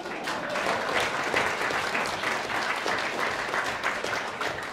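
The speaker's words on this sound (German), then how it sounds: "Jetzt kommt der Applaus." At an AfD New Year's reception in Munich, the crowd breaks into steady applause, a dense, continuous patter of many hands at moderate volume without speech.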